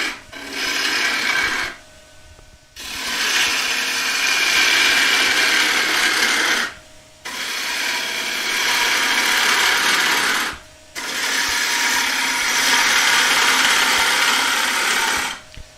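A gouge cuts across the top of a wooden bowl spinning on a woodturning lathe, giving loud, steady rasping shavings in three long passes broken by brief pauses, with no voices.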